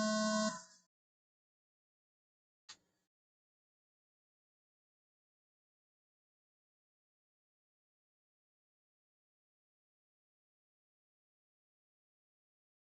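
A short electronic starting-tone buzzer sounds at the start of an off-road race, followed by a faint click and a long stretch of near silence.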